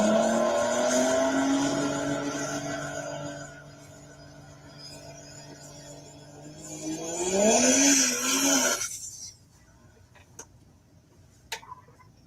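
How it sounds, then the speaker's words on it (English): A Cummins-powered diesel drag racing truck launches with a loud rising engine roar and tire squeal, revving up before abruptly cutting off, leaving quiet with a few faint ticks. "So this is a Cummins powered drag racing truck."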